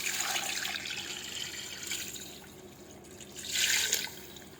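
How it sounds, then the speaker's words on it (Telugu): Water poured into a cooking pot for mutton rice with tomato sauce, a near, steady splashing pour in two bursts, the second louder, with no talk. "వాటర్ పోసుకోవాలండి."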